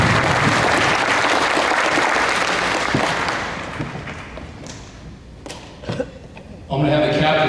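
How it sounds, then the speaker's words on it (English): An audience at a high school football gathering claps loudly and steadily, the applause slowly fading out before a voice speaks over a quieter room and a new burst of sound at the end. "give yourselves a round of applause for your support"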